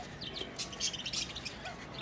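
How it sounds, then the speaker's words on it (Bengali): Faint, scattered chirps and short squawks from pigeons and other birds on a rooftop nearby, irregular and overlapping, with a low background hum. "আচ্ছা কয়টা কবুতর দেখো তো"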